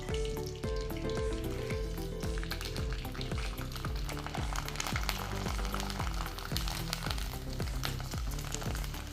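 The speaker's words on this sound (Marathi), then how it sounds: "तर या चकल्यांना आता आपण तळून पाहू" Chakli dough spirals deep-frying in hot oil, a steady dense sizzle and bubbling that runs throughout without any voices.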